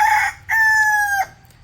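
A rooster of the native spotted chicken breed from Kerala crows loudly and close, a short opening note followed by one long sustained call that cuts off, with nothing else heard.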